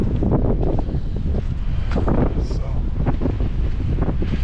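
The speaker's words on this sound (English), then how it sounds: "A little bit windy here." Strong wind buffets a GoPro Hero10 microphone, with wind noise reduction on, in loud, gusty rumbles throughout, with a brief spoken word near the start.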